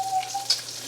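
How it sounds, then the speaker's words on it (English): Bacon sizzles in a pan, a close, steady crackling hiss with small pops, heard alone without voices. "You hear the sizzle?"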